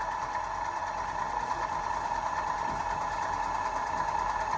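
Electric motor on a test rig running steadily while load and current are raised, a constant droning hum with a strong steady tone and faint mechanical rattle, close and continuous without talk.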